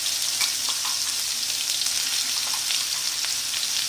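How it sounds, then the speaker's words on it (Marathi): Onion-tomato paste sizzling and frying steadily in a hot pan for matar paneer, a continuous close hiss with faint stirring scrapes and no talk. "आणि छान परतून घ्यायचं याला."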